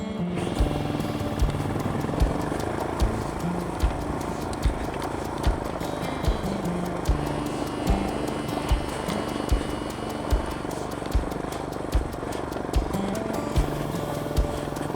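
A camera drone flying in strong wind over an offroad motovlogging route, giving a steady buzzing rotor whine close by, with gusty wind rumble and periodic soft thumps throughout.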